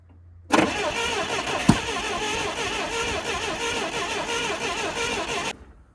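A propane-fueled forklift engine cranks steadily after a choke adjustment but fails to catch, with the starter churning loud and close for about five seconds before cutting off.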